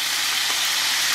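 Cider poured into a hot pan for tripe à la mode de Caen on a gas stove, giving a steady, loud, close hiss and sizzle with no talk.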